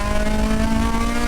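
Race car engine at steady high revs on a circuit in Las Vegas during a USTCC touring car race, a sustained loud drone with harmonic tones as the car heads onto the straight.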